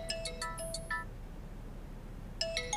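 A mobile phone ringtone plays a bright, chiming melody of quick repeated notes, stopping after about a second and starting again near the end, fairly quiet against a soft indoor background.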